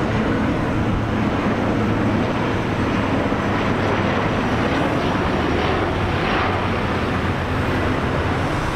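An airplane passing overhead close to Ponta Delgado airport, a loud continuous broadband roar holding steady throughout with no speech.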